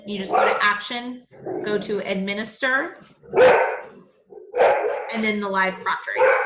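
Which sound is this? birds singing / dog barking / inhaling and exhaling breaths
dog barking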